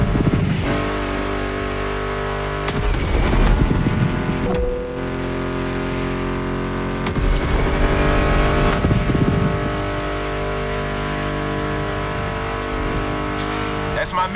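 Muscle car engines rev in The Crew Motorfest racing game, a steady loud drone with two surging bursts of revving, mixed under a music soundtrack.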